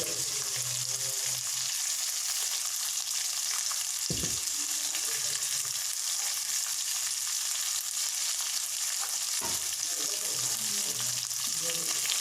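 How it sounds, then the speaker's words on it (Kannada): Onion, green chilli, curry leaves, garlic and tomato fry in a pan for bachelor-style butter chicken, giving a steady close sizzle throughout with two brief knocks of stirring, and no voices. "ಈ ನಾಲ್ಕು ಫ್ರೈ ಮಾಡ್ಕೊಳ್ಳಿ ಚೆನ್ನಾಗಿ ಬ್ರೌನ್ ಕಲರ್ ಬ್ರೌನ್ ಕಲರ್ ಆಗೋವರೆಗೂ ಫ್ರೈ ಮಾಡ್ಕೊಳ್ಳಿ"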